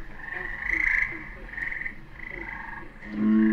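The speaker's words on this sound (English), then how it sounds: "Well, now those tree frogs more of them singing" Tree frogs singing at a pond, several trilling calls overlapping in short bursts, fairly close and clear against a quiet night background.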